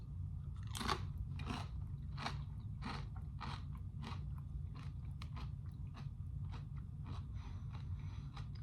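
Tortilla chips loaded with cherry queso are crunched and chewed up close, a steady run of crisp bites and chews over a low background hum, with no talking.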